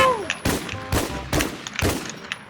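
Gunshots in the survival shooter Infestation The NewZ: four or five separate loud reports spaced roughly half a second apart, each with a short ringing tail, heard alone.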